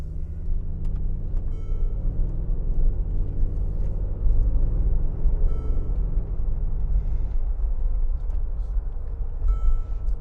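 A 2015 Mercedes-Benz G550 Designo 4Matic on Michelin tires cruises a back road, its engine and tire roll forming a steady low interior rumble with a few faint clicks and rattles throughout.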